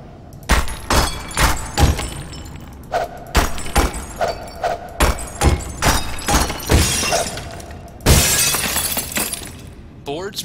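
Glass boards shattering in a Gmod horror game, a rapid string of sharp, loud breaking crashes with brief gaps, ending in a longer burst of splintering glass.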